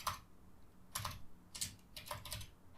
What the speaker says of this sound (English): and I'm going to type this